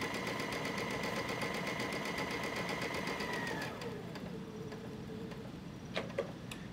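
Babylock Chorus sewing machine stitching forward then backward across fabric, a steady fast mechanical whir and ticking that slows and drops in pitch partway through, followed by a few light clicks, close and quiet.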